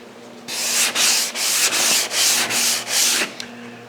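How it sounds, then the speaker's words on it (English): Hand sanding on the bodywork of a classic Chevy car: seven steady back-and-forth strokes of rough, hissing abrasion, close and fairly loud, with no talk. "So I'm gonna go ahead and get a little bit of sanding done here."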